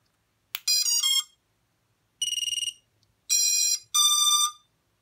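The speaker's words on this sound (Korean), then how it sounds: "이 다렌진 변속기는 조금 더 신디사이저 같은 소리가 납니다" A Dalrc Engine 4in1 ESC on a racing drone plays synthesizer-like startup tones: a short series of clean, bright electronic beeps and chirps in separate bursts with silent gaps, close and clear.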